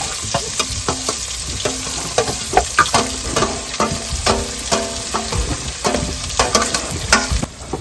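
Garlic and onion frying in a pan, a dense steady sizzle broken by repeated stirring scrapes and clacks, close and loud with no talking.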